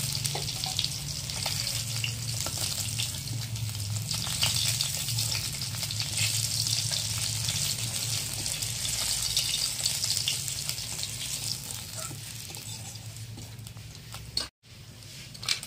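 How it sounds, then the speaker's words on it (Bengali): Silver carp fish fry in hot oil with a constant close crackling sizzle that runs steadily for a long stretch, broken only by a brief dropout near the end. "মাছটা লাল করে ভেজে নিয়েছি, এবার মাছগুলোকে তুলে নেব।"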